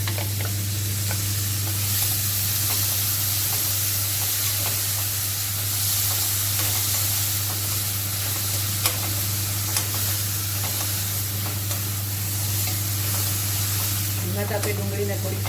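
Chopped onion sizzles steadily in a hot pan of oil while being stirred, a continuous frying hiss with scraping stir sounds, for a home-made potato and capsicum curry.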